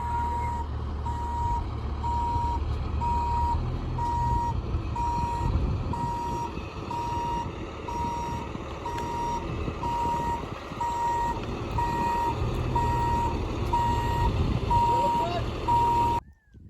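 A large truck delivering 5.5 tons of sand backs up with its reversing alarm beeping in a steady, evenly spaced series over a rumbling diesel engine, close and fairly loud, while people talk nearby.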